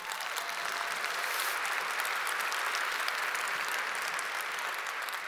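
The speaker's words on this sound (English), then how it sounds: "Maybe one more round of applause for them all." A large conference keynote audience applauds in sustained, dense clapping that holds steady and loud throughout, with no talk over it.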